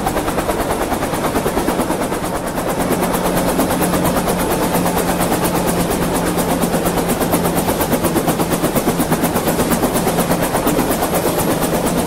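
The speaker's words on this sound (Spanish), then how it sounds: "Llegando helicóptero." A helicopter arrives, its loud, continuous rotor chop and engine roar filling the entire stretch at a steady, close level with no letup.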